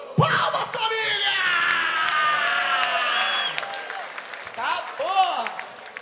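A crowd at a Brazilian rap battle cheers and yells loudly for several seconds, with a voice calling out over it near the end.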